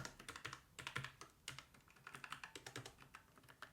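Typing on a computer keyboard: rapid, uneven clatter of close keystrokes with brief pauses, heard alone at a quiet level.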